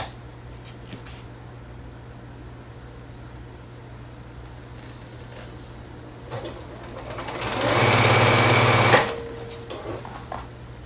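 A sewing machine stitches quilt block pieces in one short, loud whirring run of rapid needle strokes, preceded by quiet fabric handling and soft clicks against a low steady hum.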